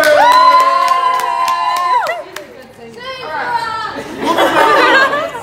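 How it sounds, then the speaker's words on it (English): A crowd cheers for a bartender in Myrtle Beach with drawn-out shouts and whoops over a few scattered claps, then a second burst of noisy cheering and chatter. "clap your hands, make some noise for the bartender"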